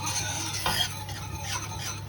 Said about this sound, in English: use this little thing here to stir it for 3 to 4 minutes until the sauce thickens up a bit